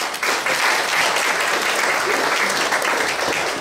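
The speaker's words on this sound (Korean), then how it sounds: "박수 부탁드립니다." Steady, dense applause from a crowd of classmates and teachers at a 40th-anniversary high school graduation reunion, loud and continuous throughout with no breaks.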